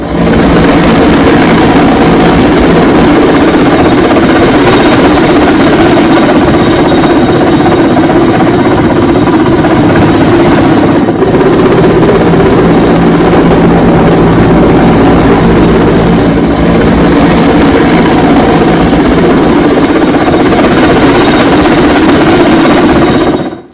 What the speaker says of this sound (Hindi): यह क्रूज पर आप देख रहे हैं हेलीकॉप्टर